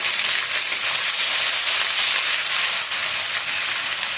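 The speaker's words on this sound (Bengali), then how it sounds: "দারচিনি জিরে এলাচ লবঙ্গ তেজপাতা ফোড়ন দিয়ে দিলাম দিয়ে আমি পেঁয়াজ বাটা দিয়ে দিলাম" Whole spices (cinnamon, cumin, cardamom, cloves, bay leaf) and onion paste sizzle and crackle steadily in hot oil, a loud continuous frying hiss close by, with no talking.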